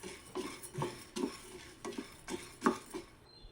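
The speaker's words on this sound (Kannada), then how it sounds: "ಮೀಡಿಯಮ್ ಉರಿಯಲ್ಲೇ ಹುರ್ಕೊಳ್ಳಿ" A spoon scrapes and stirs toor dal roasting in a pan over medium flame, giving about seven rhythmic scraping strokes at a steady pace, close and fairly clear with no talk.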